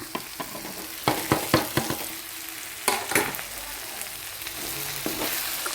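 Chili, turmeric, garam masala and coriander powders frying in a beef curry gravy, a steady sizzle broken by bursts of scraping and stirring strokes, close by and loud, with no talking.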